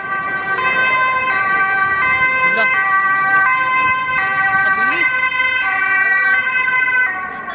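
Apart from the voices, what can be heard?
passing ambulance siren in Amsterdam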